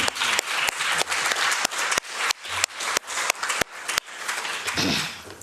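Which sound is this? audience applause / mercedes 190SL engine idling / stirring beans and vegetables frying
audience applause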